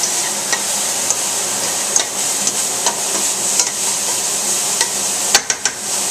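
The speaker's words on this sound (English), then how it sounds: "And we have sauteed vegetables." Vegetables browning in a pot over high heat hiss loudly and evenly, while a spoon clinks against the sides in sparse, sharp taps that cluster near the end.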